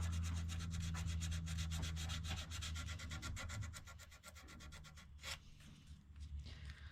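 Close, rapid back-and-forth rubbing of sandpaper on the metal of a vintage Jacobsen two-stroke engine in a steady rhythm, with a low hum underneath that eases off partway through.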